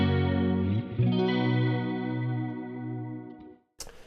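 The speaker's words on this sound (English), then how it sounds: "I've got it sort of set literally edge of vibrato, literally halfway between chorus and vibrato," An electric guitar chord rings through a Kernom Elipse modulation pedal set halfway between chorus and vibrato, giving a shimmering, wavering sustain that decays, followed by a short noisy burst.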